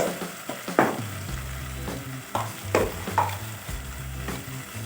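Cumin, red chilli, whole coriander and salt sizzling in oil in a pan for cauliflower curry, stirred with repeated scraping strokes over a steady fry.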